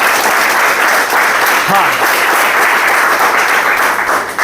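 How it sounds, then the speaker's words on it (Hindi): An audience at a business opportunity presentation breaks into sustained, dense applause throughout, with a voice briefly speaking over it. "तो एक बार जोरदार खुद के लिए ताली होनी चाहिए।"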